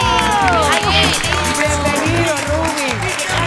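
Loud crowd cheering and applause at a televised evening talk show as a salsa singer is welcomed, with steady clapping under music and shouting voices throughout.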